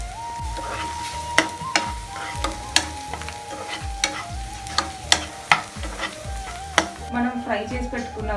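Onions and chili powder frying in oil for a prawn fry, with a steady sizzle and repeated sharp clinks of a spatula stirring against the pan, close and fairly loud.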